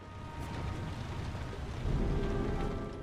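Steady rain falls in the video game Heavy Rain, a soft continuous hiss of drops on surfaces with a low rumbling undertone that swells slightly near the end.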